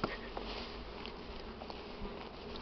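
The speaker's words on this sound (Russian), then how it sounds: "вот на 5-й день, вышел рой второй с улья" A second swarm of honeybees pours out of a hive, a faint, continuous buzzing hum with small scattered clicks, distant and quiet.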